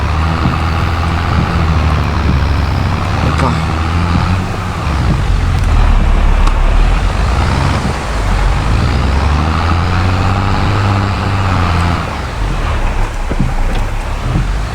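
In Farming Simulator 22, a vehicle pulls away in winter conditions. Its engine drones loud and steady throughout, swelling and easing slightly as it drives.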